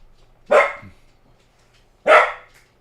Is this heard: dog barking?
yes